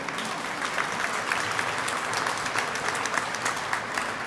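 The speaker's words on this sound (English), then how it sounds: "Governor Gianforte, you can clap for that." A crowd at an outdoor statue dedication claps warmly and continuously, a dense patter of many hands held at an even level throughout.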